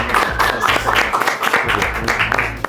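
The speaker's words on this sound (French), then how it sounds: "Top, on l'applaudit." A studio audience at a World Cup quiz show applauds in a dense, steady wash of clapping that holds for a few seconds without letting up.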